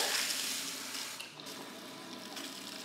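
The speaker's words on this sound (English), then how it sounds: "So what I'm going to do is take a towel, use hot water." Hot water running from a sink tap to soak a towel, a steady close splashing flow that dips briefly midway and carries on without talk.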